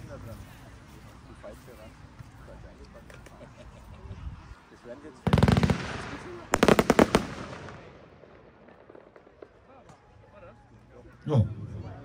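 A Röder Finalbox Silber firework battery goes off outdoors with a dense crackling volley, a short pause, then a second rapid burst of shots. A single lower thump follows later, and voices talk throughout.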